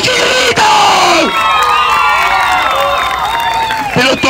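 A crowd at a clown show cheers and shouts loudly, a thick wall of voices yelling and whooping close by, with applause mixed in and a few louder cries rising and falling.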